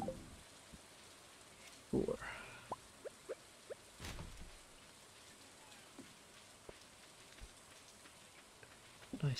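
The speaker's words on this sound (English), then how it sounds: "Nice rainy day." Quiet, steady rain patters in the Stardew Valley video game. Scattered soft clicks and a short louder burst sit over the hiss.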